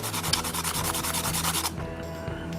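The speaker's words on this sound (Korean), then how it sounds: "조금 안 이쁘게 잘렸던 부분 지금 갈아내고 있습니다" Sandpaper smooths a roughly cut edge on a Tamiya Mini 4WD plastic part in fast, even back-and-forth strokes, a close, steady scratchy rasp that eases off near the end.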